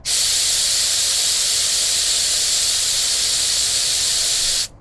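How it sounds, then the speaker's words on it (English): The built-in air compressor on a 2024 Conqueror UEV-19 camper releases a loud, steady hiss of air that starts abruptly, holds unchanged for several seconds, then cuts off. "Hit this on for your built-in compressor, and you can watch out there."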